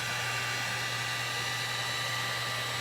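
A hair dryer blows steadily on a freshly painted stencil, a constant close, loud whoosh with a low motor hum and no talking.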